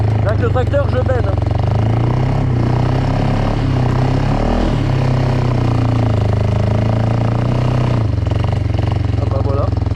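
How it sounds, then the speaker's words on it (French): A tractor engine runs loudly and steadily while tipping its dump trailer at home after a firewood-cutting run, the drone filling the whole stretch with faint voices underneath. "Le tracteur, je benne."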